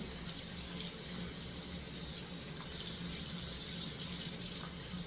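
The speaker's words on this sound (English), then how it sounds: "I'm gonna wash my gloves in the sink." Tap water runs steadily into a sink with a splashing rush, occasional small knocks as gloves stained with black hair dye are rinsed under it, no talking.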